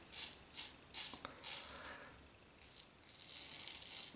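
An Ever Ready SE safety razor drags across stubble in repeated short rasping strokes, a close but quiet scratchy scraping pulsing in a steady rhythm with no talking.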